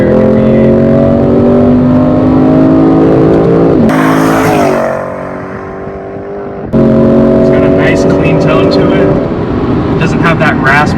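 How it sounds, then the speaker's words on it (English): A 2017 Lexus RC F's naturally aspirated V8 revs loudly, a strong, steady engine note that drops away as the throttle lifts, then roars back, with a voice talking over it. "the Japanese V8 sounds a little bit different than your average American V8"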